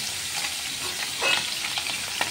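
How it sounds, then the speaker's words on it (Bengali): Tangra fish frying in hot oil, a close, bright crackling sizzle with brief louder pops and spatters, no speech. "একটু সাবধানে ট্যাংরা মাছটি ভাজবে।"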